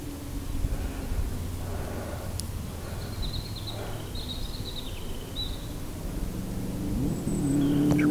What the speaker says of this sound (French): la vallée est remplie des sons des motos